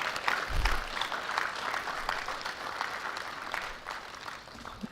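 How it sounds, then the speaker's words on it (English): Audience applause for students at a digital economy awareness event, a steady wash of many hands clapping through the whole stretch, moderately loud and diffuse with no one speaking over it. "Can I get a round of applause for all the students present here?"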